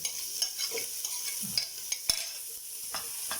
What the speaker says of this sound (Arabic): بحمر البصله